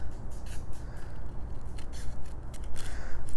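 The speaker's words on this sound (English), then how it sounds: "you'll just take your fine tip scissors and cut off the excess." Fine tip scissors snip away excess paper in quick, crisp cuts, a rapid run of close, distinct snips with short pauses between them.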